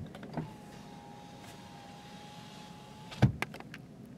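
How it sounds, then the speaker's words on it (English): A power window on a 2020 Chevy Silverado LT Crew Cab V8 runs with a faint, steady electric motor whine for about three seconds, then stops with a firm thunk and a couple of small clicks. "this vehicle does have automatic down for all windows, but only automatic up for the driver's side."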